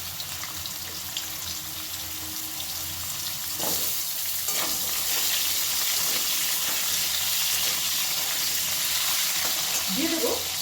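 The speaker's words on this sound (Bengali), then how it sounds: "এটা দিয়েও ভালো করে একটু নাড়াচাড়া করে ভাজা ভাজা মতো করে নেব।" Potato and radish fry and get stirred in a pan for labra, a continuous close sizzle with scraping stirs breaking through now and then and growing a little louder toward the end.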